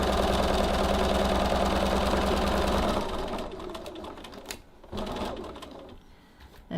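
A sewing machine stitching a tote bag runs in a steady fast mechanical whir for about three seconds, then stops and gives a few short bursts and clicks, close and clear.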